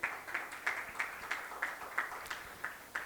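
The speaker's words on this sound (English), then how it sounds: "Let's have a huge round of applause" Rhythmic, evenly spaced clapping from a conference audience welcoming a panel moderator on stage, a steady beat of roughly three claps per second, moderately distant and unaccompanied by talk.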